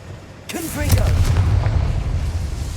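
A Confringo fire spell in Hogwarts Legacy cast once: a sudden loud blast with a whooshing, crackling impact. A low rumble then rolls on and slowly fades.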